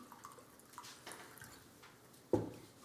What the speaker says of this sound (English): I'll just set myself up with a glass of water because I suspect I'm going to need it